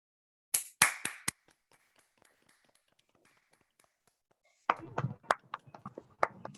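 Online participants applaud over a video call. A few loud claps come first, then sparse faint taps, then a second burst of scattered clapping from several unmuted microphones.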